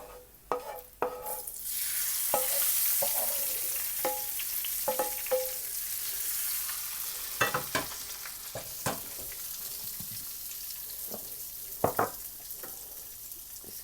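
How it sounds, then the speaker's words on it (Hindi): Tempering for chana dal frying in a pan, a continuous hiss of sizzling oil with scattered sharp crackles and spoon stirs scraping the pan, fairly close and without any talking. "बस 1-2 मिनट के लिए हम इसको फ्राई करेंगे"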